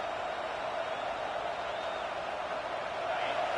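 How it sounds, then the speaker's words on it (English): A dense, steady roar of a large video game stadium crowd at a football game fills the whole stretch, loud and continuous with a faint rising swell near the end. "It's early, but this crowd is fired up. Listen to this noise here."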